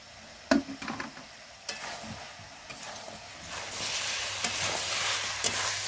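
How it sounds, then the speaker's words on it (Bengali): Fried potatoes and tomatoes are stirred into sizzling desi chicken in a pan, with scraping stir strokes and knocks early on, then a steady, louder frying sizzle building through the second half. No talking. "এই মাংসটা ভালো করে কষিয়ে নিয়েছি, আর এখানে ভাজা আলু আর টমেটোটা এবার দিয়ে দেব।"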